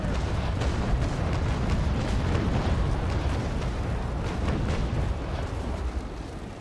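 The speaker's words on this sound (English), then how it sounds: "You have to fire off that last death volley" A wooden sailing warship in a naval combat video game fires a cannon volley, a dense rumbling roll of booms that keeps up steadily and fades slightly at the end.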